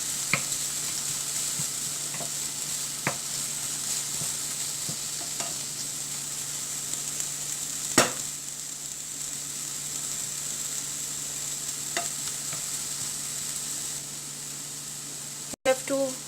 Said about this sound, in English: Just stir it a little.